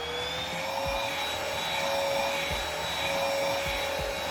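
Dibea D18 cordless vacuum cleaner with its small brush on a sofa, running alone as a steady close-up whine with a constant motor drone and soft brushing knocks.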